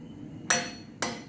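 A metal ladle scrapes and clanks against a karai while cow's milk boils down for sweets. Two sharp, ringing clanks land about half a second apart over a low, steady background.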